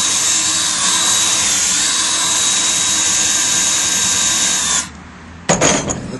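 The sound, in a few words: power drill boring a tap hole in a maple tree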